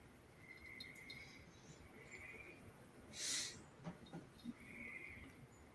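Dense nighttime chorus of crickets, insects and frogs in a lawn, steady trilling with a few louder bursts and faint voices nearby.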